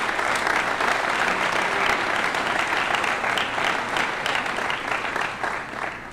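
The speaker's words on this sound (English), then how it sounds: "Let's please give them a round of applause." An audience at a high school scholarship awards convocation applauds the evening's presenters with a sustained, dense round of clapping lasting about six seconds, fairly loud and even before tapering slightly at the end.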